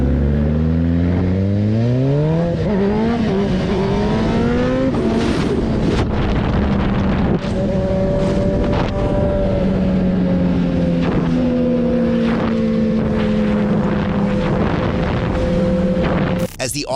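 Motorbikes ride eastbound wheelies down a street, engines revving and shifting in rising and falling pitch, loud and sustained under buffeting wind noise.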